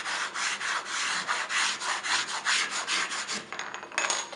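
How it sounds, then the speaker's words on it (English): Plain white chalk rubbed back and forth across a chalkboard-painted wooden log slice, a close, steady series of dry scraping strokes, with no voices. "I'm going to go ahead and take a piece of just plain white chalk, and we're going to rub it across the surface."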